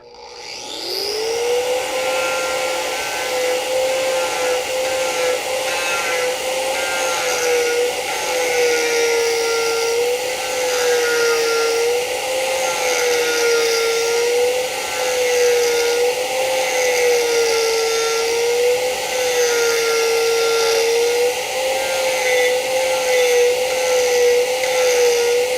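An Arbortech TURBO Scraper power-carves out the bowl of a wooden spoon with a loud, continuous whining drone at a steady pitch that wavers slightly as the tool works, close by and unbroken for the whole stretch.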